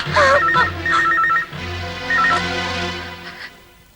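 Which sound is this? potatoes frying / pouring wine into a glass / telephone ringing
telephone ringing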